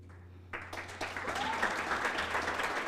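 Audience applause at a university ceremony honouring a president emeritus, starting quietly, then swelling after a moment into a full, steady round of clapping from a crowd, fairly soft overall.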